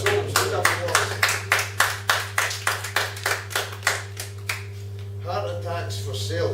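Small audience at a poetry launch clapping after a poem, distinct sharp claps in a loose rhythm close to the mic over a steady hum, fading out as talking begins near the end.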